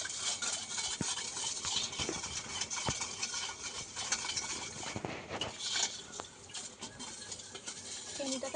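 Spicy lassi with added salt and sugar being stirred, a continuous close scraping and swishing of a spoon against a glass or bowl with occasional light clinks, steady and moderately loud throughout.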